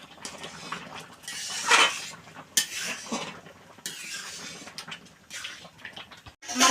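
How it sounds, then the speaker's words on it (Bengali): Carrot halwa being stirred in a pan, with irregular scraping and clinking of a spoon against metal, some louder knocks among quieter rubbing strokes. "একটু নেড়ে চেড়ে নেব।"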